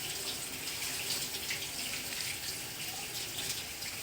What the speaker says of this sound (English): The first thing we do before handling any food objects is to wash our hands.